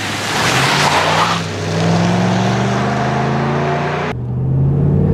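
A Ram 1500 pickup accelerates hard from a standstill toward 60 mph, with a loud, close engine roar climbing in pitch through the gears and a brief drop at a shift near the end.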